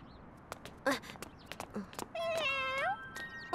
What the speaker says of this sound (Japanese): お、猫だ。 捨てられたのか。